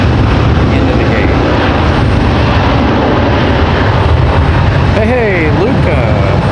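American Airlines airliner landing at Raleigh-Durham airport, a loud steady engine roar filling the clip, with a brief gliding whistle-like tone near the end and possible faint talk.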